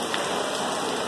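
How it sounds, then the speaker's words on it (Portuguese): Heavy rain pours into a school classroom, a steady dense hiss of water falling and splashing on surfaces, loud and unbroken throughout with no voices. "eu acho que está chovendo mais dentro da sala de aula do que lá fora"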